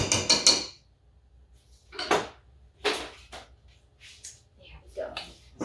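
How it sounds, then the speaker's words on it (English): Bits of scone batter are scraped off a kitchen whisk in short, scratchy, clinking bursts, separated by quiet gaps. Someone talks in between the scrapes. "So I'm getting all the little bits off my whisk here."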